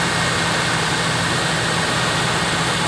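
A 2013 Toyota Innova petrol engine running steadily, a close, loud, continuous broadband roar with a low hum beneath.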